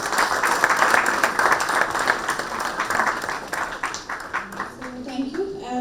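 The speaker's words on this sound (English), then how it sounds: "A huge round of applause for ma'am" Audience applause for a speaker at a climate action event, a dense burst of clapping that thins and fades in the final seconds as a voice begins talking over it.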